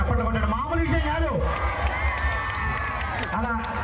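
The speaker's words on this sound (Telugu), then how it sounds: "ఒకసారి గట్టిగా చప్పట్లు కొట్టడం మామూలు విషయం కాదు" A loud crowd cheers and shouts at a live Jabardasti comedy team program in Vizag, a dense continuous roar of voices with whoops rising and falling throughout.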